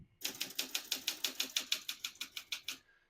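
Typing a sentence on a 1964 Olympia SM9 portable typewriter, a steady, even run of about fifteen crisp key strikes, close and alone.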